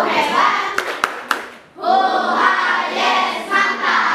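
A classroom of children in a science lesson performs a rhythmic clap chant, a few sharp hand claps ringing out amid loud chanting voices, then continuing group voices after a brief pause.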